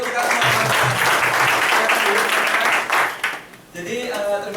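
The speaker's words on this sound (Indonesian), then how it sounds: "tepuk tangan untuk kita semua" Audience applause at a Prudential agency gathering fills the room, a dense, steady wash of clapping for several seconds that thins and dips near the end, with some voices mixed in.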